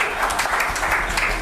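Brief burst of audience applause at a T-Hub mentor engagement meet in Hyderabad, many hands clapping densely and fairly close for just over a second.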